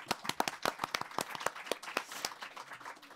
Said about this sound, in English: So applause already for Jefferson